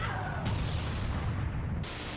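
A loud, dense roar of a cartoon-style explosion effect fills the whole stretch as sustained rumbling noise, with a sharp surge in the middle, and no voices.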